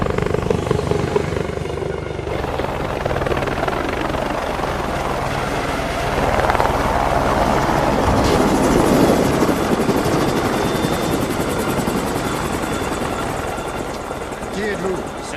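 A helicopter's steady rotor drone fills the scene, loud and continuous, with voices speaking over it.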